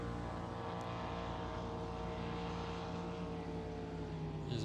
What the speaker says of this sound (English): As we hear one of the tractor pull tractors in the background making plenty of noise.